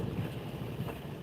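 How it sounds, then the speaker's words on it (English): Strong wind gusting outside during a storm, a dense low rumbling roar buffeting steadily for a moment, with no voices. "it's crazy windy outside"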